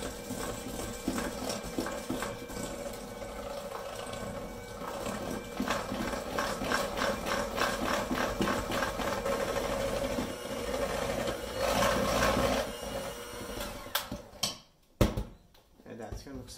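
Mascarpone being whisked in a bowl for tiramisu, a quiet rhythmic scraping and tapping of the whisk against the bowl, steady for several seconds before stopping near the end.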